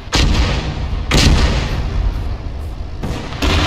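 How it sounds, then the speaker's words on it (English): Incoming artillery rounds landing: several heavy booming impacts, four or five in quick succession, each a sharp loud thump followed by rumbling decay, fairly close. "I don't think that's friendly artillery."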